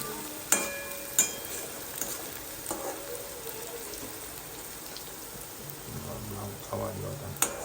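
Ingredients frying and browning in a pan make a soft, continuous sizzle with a few sharp clinks of a utensil, while a voice talks quietly in the background.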